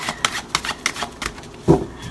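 Tarot cards being shuffled by hand, giving a series of short papery riffles and soft slaps at irregular intervals, with a heavier thump near the end, close and moderately quiet with no talking.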